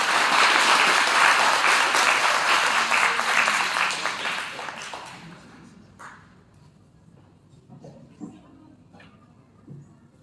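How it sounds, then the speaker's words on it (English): Warm applause from a school assembly audience at Western Primary, loud and dense for about five seconds, then thinning to scattered claps and faint room noise. "We give them a warm round of applause"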